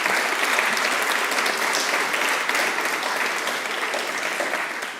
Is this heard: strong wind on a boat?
no